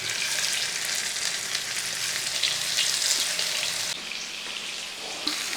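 A second batch of fish crackles and sizzles in hot oil, a loud, even frying hiss up close that drops slightly in level partway through.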